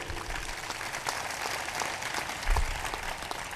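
Satsang audience applauding in a hall, a dense steady wash of many hands clapping at moderate loudness, with a brief stronger burst near the end.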